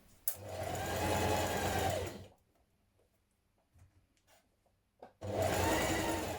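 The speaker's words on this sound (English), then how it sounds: "Then we're going to stitch it in place." A home sewing machine runs a stretch stitch along the neck facing of a cowl neck blouse: a steady two-second burst of motor whir, a quiet pause with faint handling clicks, then a second run starting up close.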